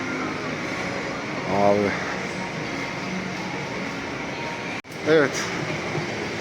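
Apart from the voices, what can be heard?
tram train passing by in Singapore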